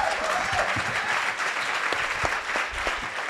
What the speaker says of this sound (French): On applaudit 12